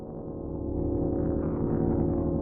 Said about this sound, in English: this second sound that I have is kind of like a drone.